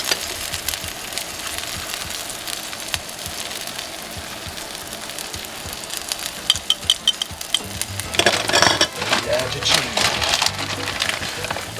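Meat for quesabirria tacos sizzles on a greased griddle, a steady crackling hiss that swells louder toward the end, with a voice talking over it at times.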